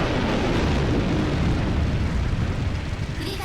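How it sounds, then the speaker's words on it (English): A huge explosion in the video game Root Double roars as a dense, sustained rumbling blast at a research facility, loud and unbroken for several seconds before easing slightly. "An explosion occurred."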